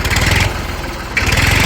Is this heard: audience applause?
no